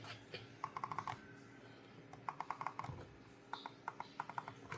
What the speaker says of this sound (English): You can hear it's less clicky.